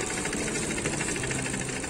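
A vintage stationary engine running at an autumn engine rally in Tokushima, Japan, a steady close mechanical chugging with rapid even knocks, continuous and moderately loud, no voices.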